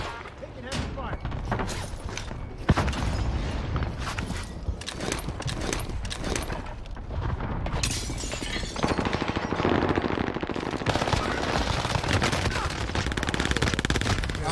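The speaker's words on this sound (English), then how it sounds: "Taking heavy fire." Heavy automatic gunfire in a shooter video game, dense rapid bursts and shots rattling continuously at close range, loud and sustained, with players talking underneath.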